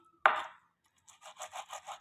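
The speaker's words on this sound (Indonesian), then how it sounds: "Langkah ketiga, kita akan memotong bawang prei." A knife chopping leeks strikes once sharply, then after a brief pause cuts in a quick, even run of about six close, crisp chops, with no voices.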